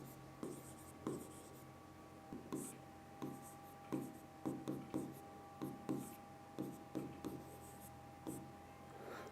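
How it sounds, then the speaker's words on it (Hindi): Chalk or marker strokes on a classroom board while drawing a human brain diagram, a steady series of short scratchy strokes in irregular rhythm, close and fairly quiet, with a steady background hum. "तो मैं इसको यहाँ लिख देता हूँ"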